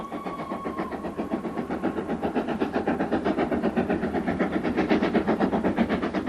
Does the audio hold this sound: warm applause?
no